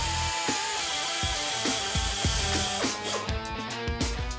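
Power tool grinding weld away from a World War gun barrel during restoration, a loud close whine broken by repeated sharp knocks and bursts of metallic clatter.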